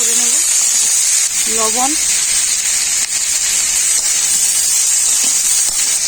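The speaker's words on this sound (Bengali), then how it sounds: "এরপর কড়াইতে দিয়ে দেবো খোসাগুলো, একসাথে খুব ভালো করে একটু ভাজা করে নেব" Vegetable peels sizzle and hiss steadily in a hot kadai while cooking a Bengali pui shak and bharta dish, a loud constant frying crackle running throughout, with a voice speaking briefly over it near the start.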